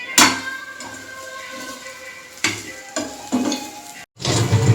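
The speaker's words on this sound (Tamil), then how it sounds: "இதில் கட் பண்ணி வச்சுருக்க இட்லியை போட்டு நல்லா இந்த மாதிரி பரட்டிக்கணும்." Cut idli pieces tossed in masala in a pan, a close sizzle broken by sharp spatula scrapes and clatters at irregular intervals, with one brief pause before a final burst.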